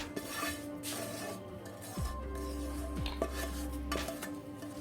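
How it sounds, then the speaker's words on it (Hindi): Roasted semolina and gram flour are mixed in a pan for halwa, soft scraping and light clinks of a spoon against metal recurring at an unhurried pace over a low background hum. "तो अब ये सूजी मैंने भून लिया, अब ये इसमें मिक्स करूंगी"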